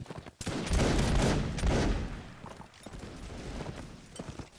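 A reenactment platoon fires a musket volley, a dense ragged crackle of many close shots that rolls on for a couple of seconds before fading into scattered pops and rustling.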